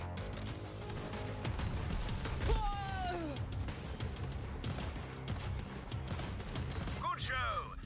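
Repeated shotgun blasts in Borderlands 3 co-op gameplay, loud bursts layered over game effects and music, with players chatting throughout.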